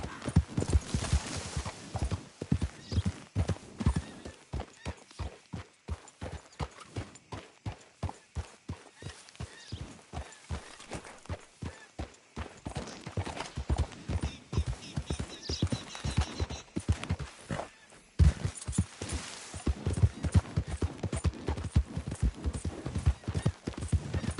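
Horse hooves clip-clop in a fast, steady rhythm in an open-world western game, close and continuous for the whole stretch, with a brief pause and a faint whinny-like layer mid-way.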